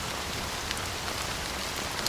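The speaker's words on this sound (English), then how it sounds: "how long has this rain been going on for?" Steady, dense rainfall in the video game Honkai: Star Rail hisses continuously with scattered drop ticks, even and close, with no voices.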